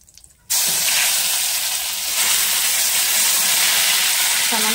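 Ginger paste hits hot oil with cumin seeds in a pan while cooking tilapia, setting off a sudden loud, steady sizzle and hiss that keeps going close by after a brief quiet start.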